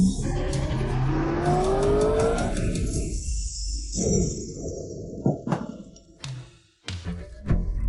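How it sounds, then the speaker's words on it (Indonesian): A motorbike engine revs with a rising, whining pitch for a few seconds, then drops away into low rumbling and a few scattered thumps, fairly close and loud. "bukankah itu motor Yuan Jiang?"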